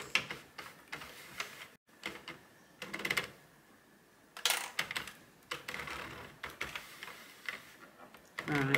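A Sentro knitting machine being cranked around, giving quiet, irregular bursts of plastic clicking and ticking with short pauses between them.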